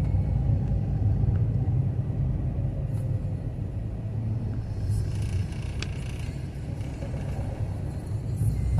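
A car climbing a sunny street in Jardim Palanque, Cidade Tiradentes, with a steady low engine and road rumble held close throughout, without speech.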